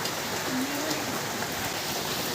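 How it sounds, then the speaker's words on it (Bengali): Steady rain pours down, a dense continuous hiss of drops hitting surfaces close by, with no voices. "এখন বৃষ্টির উপভোগ নিচ্ছি গাইস দাঁড়িয়ে দাঁড়িয়ে, এত সুন্দর বৃষ্টি।"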